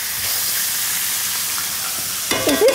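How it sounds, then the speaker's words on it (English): Food sizzles and crackles steadily in a hot pan, close up, with a bit of stirring clatter near the end. "I'm just frying it up."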